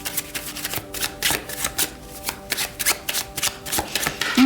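Tarot cards are shuffled by hand in quick, uneven bursts of crisp riffling and slapping, close and clear, with no talking.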